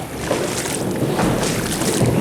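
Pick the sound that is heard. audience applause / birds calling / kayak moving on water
kayak moving on water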